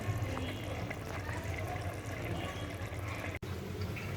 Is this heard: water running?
yes